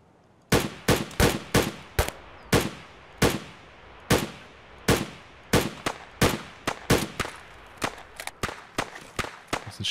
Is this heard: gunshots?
yes